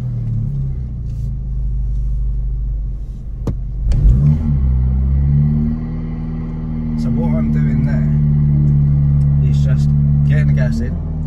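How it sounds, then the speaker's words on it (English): Manual car engine idling low and steady, then revving briefly and settling into a sustained higher drone as the clutch bite point is found with gentle gas; people talk over it throughout. "finding that bite point, and then I'm just easing off the gas so it's not so over revvy"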